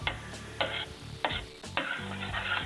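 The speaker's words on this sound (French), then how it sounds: "je vais mélanger mon beurre" Butter is stirred into a warm lemon cream mixture off the heat, several soft rhythmic scraping strokes of a utensil against the bowl, close and fairly quiet, with brief pauses between passes.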